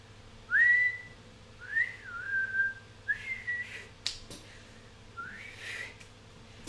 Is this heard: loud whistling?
yes